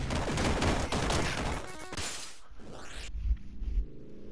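Rapid shotgun blasts fire in quick succession during video game play, loud and crowded at first, then fading into sparser, muffled thumps and an abrupt drop toward quiet.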